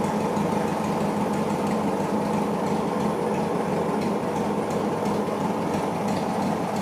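Porsche 911 Turbo 964 replica engine running steadily on its first start, a dense continuous mechanical roar with a faint irregular knock from a worn, disintegrating belt, close and loud throughout.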